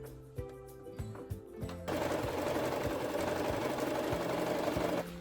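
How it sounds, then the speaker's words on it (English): A sewing machine stitches the main seams of a pillow cover along three sides. A few short clicks come first, then a loud, steady, close whirring runs unbroken to the end. "We need to sew the pillow cover along 3 sides."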